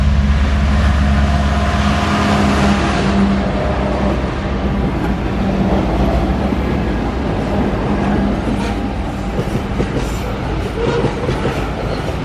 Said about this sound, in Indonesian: Bung masih jauh keretanya.